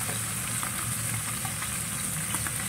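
Fish fries in a pan of oil, giving a steady, close crackling sizzle that runs evenly throughout with no voices over it.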